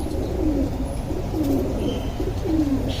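A favourite pigeon from a home loft cooing, three rising-falling coos spaced about a second apart, close and steady with no talk.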